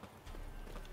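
A horse's hooves clip-clop in a quick, even rhythm in the video game The Witcher 3, faint and low in level, growing slightly louder partway through with no talking.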